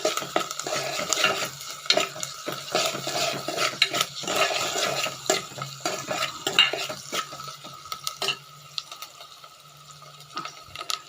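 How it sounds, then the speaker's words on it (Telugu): Onions frying in a pan with half a teaspoon of salt make a close sizzle under busy stirring, with repeated spoon scrapes and clinks against the pan and no one speaking. "కొంచెం ఉప్పు వేసుకుంటే ఉల్లిపాయ తొందరగా వేగుతుంది"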